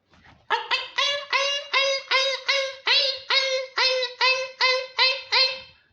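A voice imitates a mother dog crying and whimpering, a rapid series of about a dozen loud, evenly spaced yelping cries, close and alone.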